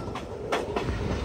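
The Pamani Express rolls into Pakala Junction station with rhythmic clickety-clack from the wheels over rail joints, a close, steady rumble.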